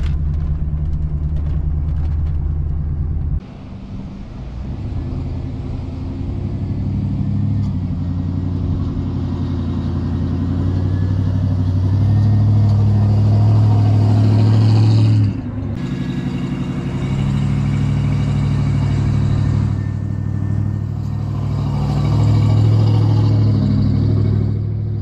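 Ford Bronco driving slowly on a four-wheel-drive beach, a steady low engine rumble with wind and tire noise, swelling slightly in places and loud throughout.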